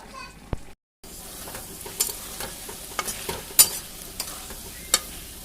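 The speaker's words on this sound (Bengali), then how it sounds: "এখানে পনিরটা রান্না করছি" Paneer frying and being stirred in a pan on a home stove, with a steady low sizzle broken by sharp scraping clicks of the spatula, close and moderately loud, after a brief silent gap at the start.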